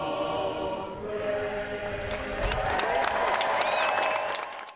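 Sold-out crowd at the opening day of a new professional baseball stadium in Macomb County, cheering and applauding in a dense, distant roar with scattered whistles and shouts.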